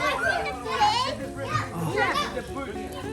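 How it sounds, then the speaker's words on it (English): Children shout and chatter excitedly nearby, their lively overlapping voices filling the space continuously. "you can hear that the kids are going off in the background"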